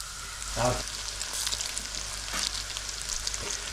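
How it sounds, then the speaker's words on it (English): Cornflour-coated tofu frying in hot oil until crispy, a steady close sizzle with occasional louder pops and stirring sounds, no talking. "So I'm just going to fry these off now till they're nice and crispy."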